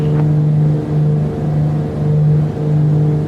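Twin piston engines of a Beechcraft B60 Duke in Microsoft Flight Simulator 2020, a loud steady droning hum with a strong low tone, swelling and easing slightly, heard alone.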